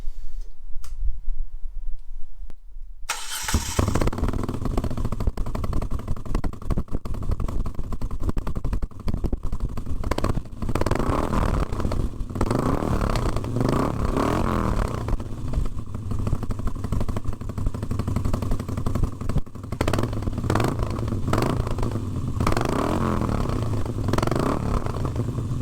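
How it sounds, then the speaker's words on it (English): A Moto Guzzi V7 motorcycle started with one side of its exhaust fully uncorked: a brief quiet, then the engine catches into a loud, steady, close-up rumble with lumpy pulsing beats that carries on for over twenty seconds. "let's start the bike up and hear what it sounds like, completely uncorked, on one side only."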